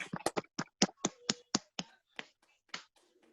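An audience claps for a workshop presenter, a sparse run of sharp, close individual hand claps that thins out and fades toward the end.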